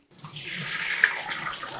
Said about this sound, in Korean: 요거를 이제 찬물에다가 헹궈 볼게요.